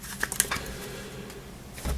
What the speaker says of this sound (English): Give that a quick shuffle.